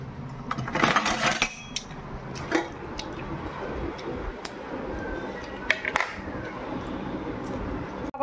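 Spoon and dishes handled in a home kitchen while sweets like jilipi are served for tiffin, giving clinks and scrapes, a denser clatter early on and scattered taps after.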